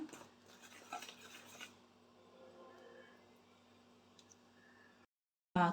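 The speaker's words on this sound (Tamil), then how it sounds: "இந்த மாதிரி நல்லா பீட் பண்ணிக்கோங்க" Batter being beaten in a bowl, with a soft scraping, clattering stir that is busier at first and then settles into quieter steady mixing before a brief cutoff and a short loud noise at the end.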